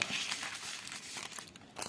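Close, crisp crinkling of a foil packet, irregular rustles and crackles continuing for a couple of seconds.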